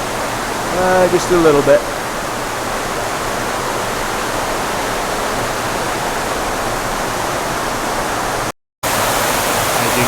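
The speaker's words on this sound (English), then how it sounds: "a nice little waterfall before the exit of the cave" Small waterfall just before the exit of a cave, a steady, dense rush of falling water filling the space. A person speaks briefly at the start, then only the continuous wash remains, cut by a short dropout near the end.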